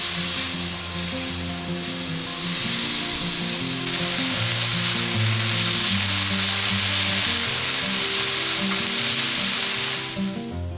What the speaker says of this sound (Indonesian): suara daging mendesis di atas wajan jadi pertanda sarapan pagi ini bakal spesial